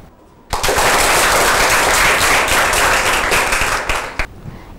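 A classroom of students clapping together to applaud a classmate, a sudden burst of dense, loud hand claps sustained for about four seconds before stopping abruptly.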